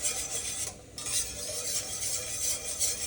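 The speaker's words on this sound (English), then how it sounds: "You hear scraping the bottom all you want. It's stainless steel, baby." A whisk scrapes and stirs across the bottom of a stainless steel pan of reducing red wine sauce, a continuous close metallic rasping with a brief pause, over a soft simmer.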